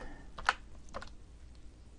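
Computer keyboard typing, with a few faint key clicks, one slightly louder, in a quiet room while entering a math query.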